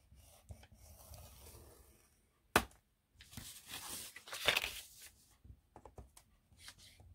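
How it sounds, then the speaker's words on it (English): Paper strips for a handmade 3D camera being scored by hand, a soft rasping scrape drawn along in a few separate passes, close and fairly quiet, with one sharp tap partway through. "you score all of the strips 1/2 inch"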